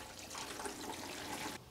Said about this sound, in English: I'm just gonna give it a really quick water first before I actually put any seeds in it